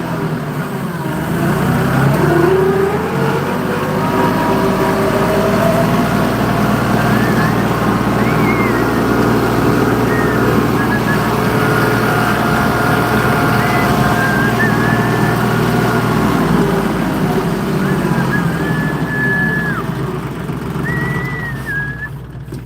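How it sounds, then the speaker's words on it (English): A truck engine with straight-pipe exhaust idles loudly and steadily nearby for a long stretch, a deep continuous rumble with occasional faint whistle-like tones over it. "I actually got to turn the truck off because otherwise this thing has straight pipes, breathing in straight fucking exhaust"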